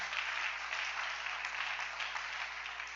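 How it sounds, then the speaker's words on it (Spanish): A church congregation applauds steadily during a sermon, the clapping holding as a continuous, uniform roar over a low hum from the sound system. "Denle un aplauso al Rey."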